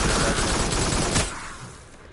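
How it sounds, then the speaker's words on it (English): Rapid gunfire in the VR shooter Farpoint, a dense burst of loud shots that fills the first second and then trails off into a fading echo. "Shoot him."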